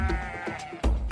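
A sheep bleats in a short burst, loud and close, with a wavering voiced call followed by a rougher second cry, and no speech.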